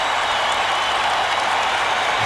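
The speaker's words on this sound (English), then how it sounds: "Listen to this crowd." Arena crowd at a 1995 NBA playoff game, Orlando Magic versus Chicago Bulls, a steady loud roar of cheering and scattered clapping filling the space, with no break.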